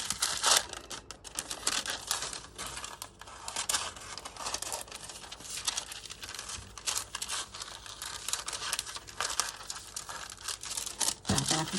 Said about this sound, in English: I'm just going to cut him out.